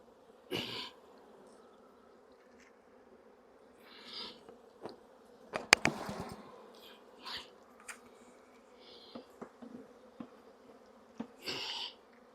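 Honey bees buzzing on a frame of young bees during a hive inspection, a faint steady hum with closer bees zipping past in short louder bursts, plus occasional handling clicks and knocks.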